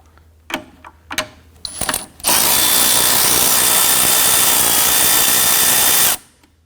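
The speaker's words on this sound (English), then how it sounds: "I want to go ahead and remove the brace right here. It's a 10mm nut right here." A ratchet spins a 10mm nut off the battery brace of a 2017-2020 Hyundai Elantra, starting with a few short clicking bursts, then a loud, steady whirring run of about four seconds up close before stopping.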